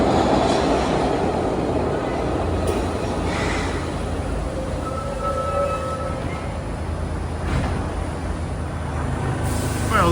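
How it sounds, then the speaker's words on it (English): A short two-car Philadelphia Broad Street Subway B3 train runs through an underground station, with a loud continuous rumble and rattle of wheels on rail and faint squeals, and a voice talking briefly beneath. "They also run probably the shortest subway trains in the US. That's the B3."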